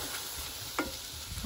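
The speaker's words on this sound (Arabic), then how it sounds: "هنزل بقى عندي بالدقيق والفلفل الاسود والزعتر، وهقلب فيهم لحد بس ما يختفي معايا الدقيق" Soft stirring in a pan of mushrooms with flour, black pepper and thyme, one brief scrape near the middle over a faint low sizzle, quiet and close.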